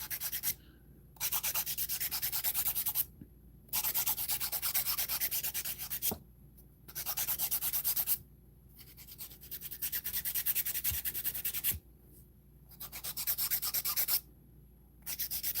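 An electric nail drill buffs polygel nails with a finer, roughly 100-grit bit, giving a close, steady, gritty whirring that comes in bursts of a couple of seconds, broken by short pauses, with no talk.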